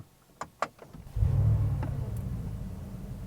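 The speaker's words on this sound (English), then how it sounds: "So let's press the button again and we will start the engine." A 2025 Mercedes G63 AMG V8 starts by push button: a few sharp clicks, then the engine catches with a deep rumble that swells and settles into a steady idle.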